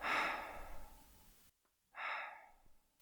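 Two slow, heavy breaths close to the microphone, each a long airy exhale, separated by a short quiet pause.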